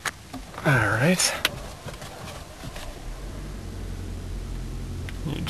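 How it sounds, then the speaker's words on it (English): A Toyota Prius petrol engine starts up to charge the hybrid battery, settling into a low, steady, quiet hum inside the car after a brief vocal sound. "You just heard the engine turn back on there."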